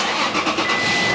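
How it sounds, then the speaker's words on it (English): A Toyota Tacoma pickup's engine starting, a loud, steady broadband roar filling the short moment, close and uninterrupted by voices. "start the engine."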